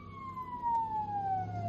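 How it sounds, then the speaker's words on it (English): A couple of fire engine sirens pass by at a moderate distance, a steady descending wail drifting lower in pitch as they move along, with faint road noise underneath and no talking. "there was a couple of fire engines"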